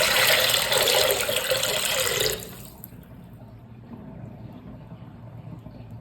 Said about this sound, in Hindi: उसके बाद मैंने इसके अंदर डाला है वार्म वाटर।